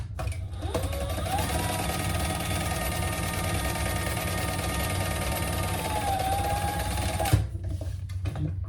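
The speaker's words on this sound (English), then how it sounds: "we're going to top stitch on the lining piece with that seam we just created" A sewing machine top-stitches a lining seam, running steadily for about seven seconds with a fast, even mechanical chatter and hum, then stopping. The machine is close by and no one talks.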